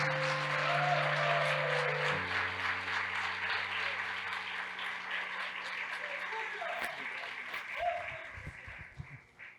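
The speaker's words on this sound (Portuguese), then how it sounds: "eu queria que a igreja recebesse o pastor Jorge com uma salva de palmas" Church congregation applauding to welcome the pastor: a moderate wash of clapping in a reverberant hall over sustained organ or keyboard tones, fading gradually.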